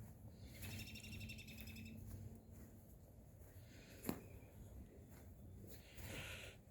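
Birds call from somewhere behind a backyard, faint high chirps with a short repeated trill, heard over a steady outdoor background along with one brief sharp knock.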